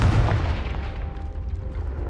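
A Confringo blasting spell goes off in the Hogwarts Legacy video game, a heavy booming burst at the start that rolls into a rumbling tail and fades over about two seconds, with no talk.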